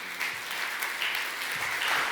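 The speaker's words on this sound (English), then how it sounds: "Please, an applause for Hans-Jürgen Beerfeltz." An audience at a travel convention's Africa forum in Berlin gives brief, moderately distant applause for a speaker, a soft even patter of many hands.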